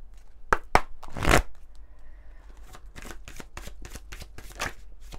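Tao oracle cards are shuffled by hand in a few crisp riffling bursts, one louder flurry early on, then softer repeated shuffles and taps, close and with no talking.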